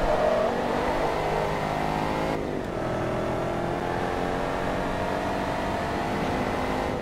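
Race car engine in Forza Motorsport 2 at Silverstone, a steady loud drone with harmonic whine held throughout and a brief dip around the middle as the car turns, no talk.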